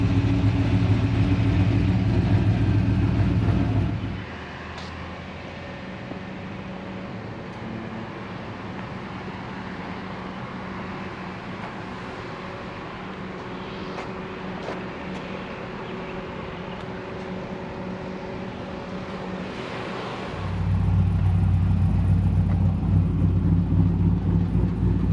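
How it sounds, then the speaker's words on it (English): A 1968 Chevy C10 engine runs through large Dynamax mufflers with a loud, steady low rumble at first, drops to a quieter, softer hum for most of the stretch, then swells back to full volume near the end. "we put huge mufflers on it, and they're Dynamax mufflers, and it's really quiet"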